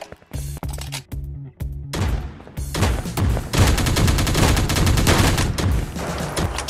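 Gunfire from a mobile FPS shooting game: a few spaced single shots at first, then dense, loud, sustained automatic bursts with thuds mixed in.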